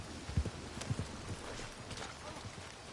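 Light horse hoof clip-clops in the video game Red Dead Redemption 2, a few quick steps early on, then softer footfalls fading under a faint background hum.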